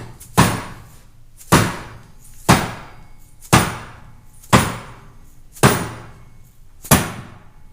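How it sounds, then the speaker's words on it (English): A hammer strikes a steering arm on a Dana 60 knuckle, seven sharp metallic blows spaced about a second apart, each ringing briefly before the next. "let's see if I can't just quietly this time tap this heister arm off this freaking knuckle"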